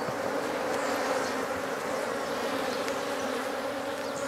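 Honeybees buzzing at a strong, open hive during a colony split, a steady dense hum holding evenly throughout with no voices.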